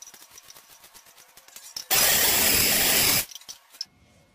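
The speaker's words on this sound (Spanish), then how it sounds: "voy a procesar un par de hojitas de cebolla verdeo con una clara de huevo." A food processor blends a couple of green onion leaves with an egg white in one loud, steady burst of about a second and a half, with small clicks and handling noises before and after.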